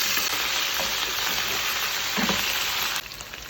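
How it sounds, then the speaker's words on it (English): Gizzard frying in oil in a pan gives a steady, dense sizzle with occasional spits and a faint stir, close and continuous. "let's start by adding a little bit of oil to the pan and our gizzard."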